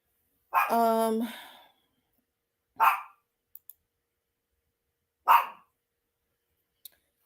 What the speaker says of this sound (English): She's barking because she's afraid of the thunder.